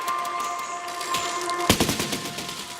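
Cannons fire on a tank built in the video game Besiege, a sharp blast followed by a rapid clattering burst of impacts and crackling debris, loud and close over a steady mechanical hum.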